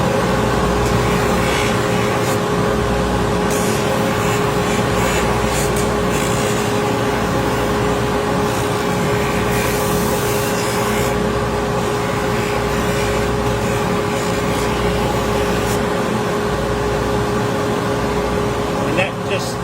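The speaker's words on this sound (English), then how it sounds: "Scotch-Brite wheel is a woven nylon wheel that's impregnated with abrasives." A woven nylon Scotch-Brite wheel impregnated with abrasives whirs steadily while polishing a tomahawk sheath. The loud, continuous motor hum carries a constant tone and runs unbroken for the whole stretch.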